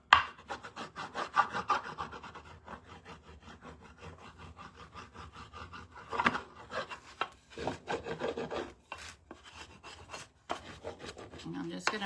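Candle wax is rubbed heavily onto cardboard in a salvage craft project, making rapid rhythmic scratchy strokes close up, followed by slower, more scattered scrapes and taps.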